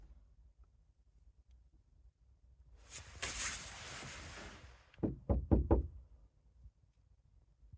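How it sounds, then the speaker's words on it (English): Knocking on a camper van door at night: a quiet stretch, a brief rustling scrape, then four or five sharp, close raps in quick succession, followed by silence. "There was definitely a knock."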